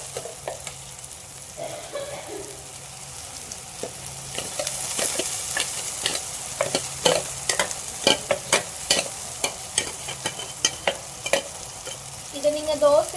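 A ground paste goes into a hot frying pan for soya gravy and is stirred. A continuous sizzle sits under repeated close scraping strokes of a spoon, growing busier and more rhythmic as the stirring goes on.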